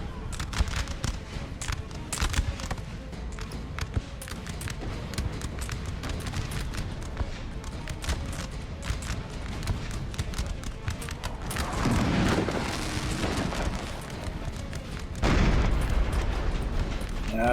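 Artillery cannon fire in the video game Napoleon: Total War rumbles as a dense run of crackling, overlapping booms, with heavier blasts swelling near the end.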